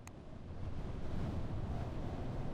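Dark, freezing ocean surf in the video game 80 Days after a plunge into the sea, a steady rushing wash of waves and wind swelling slightly and continuing without speech.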